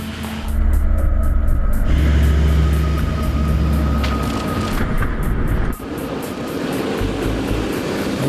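An off-road vehicle's engine roars loudly as it churns through mud, a heavy sustained drone that drops off sharply near the end and then continues more faintly.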